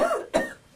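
A single short, sharp cough, close and clear, preceded by a brief breathy exhale.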